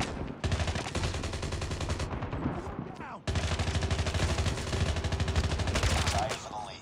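Call of Duty gunfire, dense rapid automatic bursts that roar continuously with a short break midway, loud and close, with some speech mixed in.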